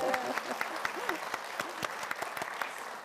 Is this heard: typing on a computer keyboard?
no